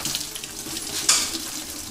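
Fluid from a GM truck windshield washer tank splashing and trickling into a bucket, a steady close pouring hiss with a brief louder spurt partway through.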